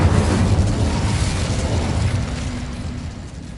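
The Incendio fire spell cast in a wizarding video game produces a loud, dense whooshing burst right away that roars on and slowly fades over several seconds.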